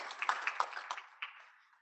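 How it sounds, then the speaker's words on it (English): Brief scattered applause at a Cornell pitch competition, a handful of quiet, uneven claps that thin out and fade within two seconds. "oh, yes, applause"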